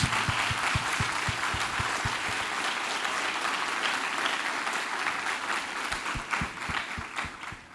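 A church congregation applauds with a steady wash of many hands clapping, some louder individual claps standing out near the front.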